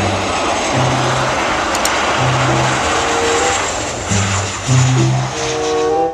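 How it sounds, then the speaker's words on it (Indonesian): Airplane engine roar, loud and continuous, droning steadily throughout with a broad rushing noise and faint tonal hum shifting underneath. "Pesawat terbang."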